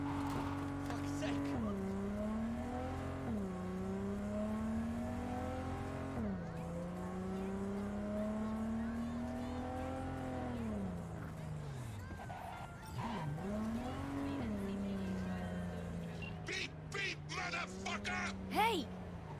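Off road in Cyberpunk 2077, a car's engine whines through repeated gear shifts and revs, rising and dipping, with bumps and rattles building near the end under occasional voices.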